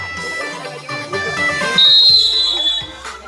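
A shrill referee's whistle sounds for about a second midway through a match, over background voices and crowd noise.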